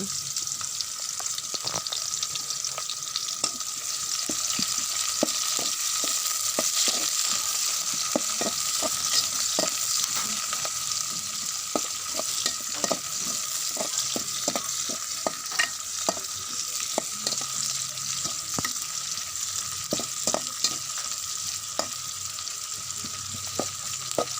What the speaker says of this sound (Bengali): দিয়ে দিলাম পেঁয়াজ কুচি পেঁয়াজগুলো আমি ভালোভাবে বেজে নিব